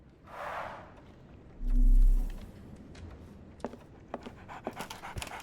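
Dog panting in a video game, a heavy breathy pant followed by a low rumbling huff, then scattered soft clicks and taps in a quiet scene.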